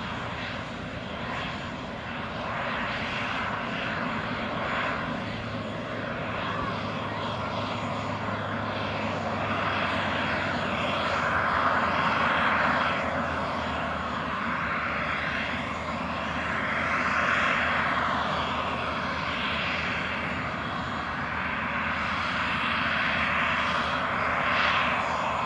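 The engines of an Azul Airbus A320-251N airliner drone steadily and loudly for the whole stretch, a broad roar with slow swells in pitch and intensity as the aircraft prepares for a flight from Maceió.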